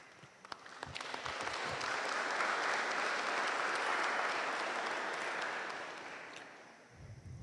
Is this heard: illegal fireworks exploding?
no